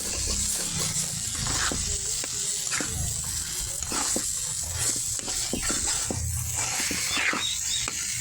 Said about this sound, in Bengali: দেখুন ভালো করে নাড়াচাড়া দিয়ে নিচ্ছি